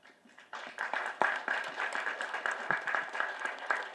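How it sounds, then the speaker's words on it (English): Light, scattered clapping from an audience filling an awards hall, starting faint and then settling into a modest, uneven patter of hands with a few sharper claps standing out. "the sound of the clap is very mild"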